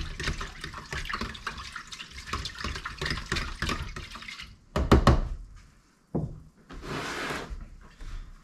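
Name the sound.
water poured into bait dough mix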